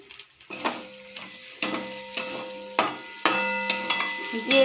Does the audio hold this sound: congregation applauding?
no